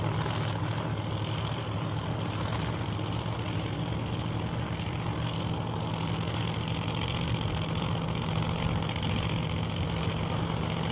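A drag racing car engine idles at the track with a steady, deep rumble that holds unchanged throughout, fairly loud and close, with no voices over it.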